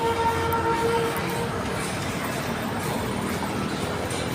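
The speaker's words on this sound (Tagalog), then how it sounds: "May tren ulit." A train rumbles past nearby near SM Bicutan in the Philippines, a loud continuous roar of wheels and carriages with a faint tonal whine early on.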